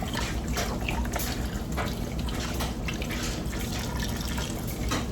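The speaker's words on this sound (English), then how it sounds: "I have some beef broth, and I'm going to add this whole container." A whole container of beef broth pours over oxtails in a cooking pot, a steady close splashing trickle of liquid that keeps going without a pause and with no talking.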